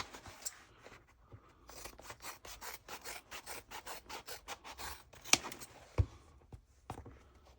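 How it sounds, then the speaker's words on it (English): Scissors trim the fabric edges of a tote bag with a rapid run of short rasping snips in a steady rhythm, close and quiet, followed by a few isolated cuts and handling noises. "I'm going to trim down all the edges by 1/4 inch"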